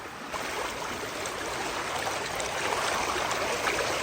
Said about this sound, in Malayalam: നമുക്ക് വെള്ളത്തിൻ്റെ സൗണ്ടൊന്നും കേൾക്കാം